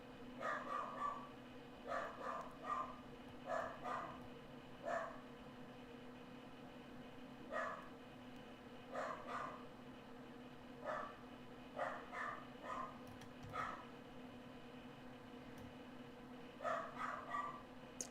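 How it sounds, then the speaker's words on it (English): Indoor dog barking in repeated short bursts, faint and somewhat distant, with quiet pauses between barks over a low steady hum. "Sorry about my dog. He's going crazy."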